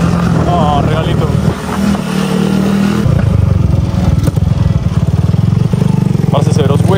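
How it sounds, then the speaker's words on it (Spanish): A motorcycle engine in third gear on a hilly street in Villeta, loud and close, with a steady throb that shifts to a harder, pulsing rev partway through; no voice is heard. "Aquí voy con la moto en tercera"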